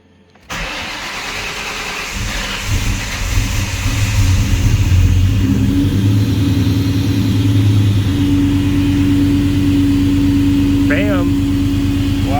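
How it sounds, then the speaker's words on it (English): A 2003-2004 Mustang Cobra engine cranks and catches, then settles into a loud rough idle that builds in revs and holds steady; a brief voice cuts in near the end. "I'm going to start the car up."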